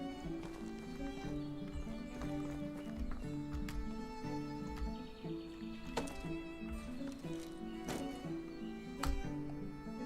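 Horse hooves clip-clop in the medieval game Medieval Dynasty, a steady rhythmic trot of hollow knocks over a musical score, with occasional sharper clicks and no talking.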